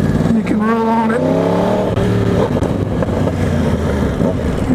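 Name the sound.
2020 Yamaha R1 motorcycle engine accelerating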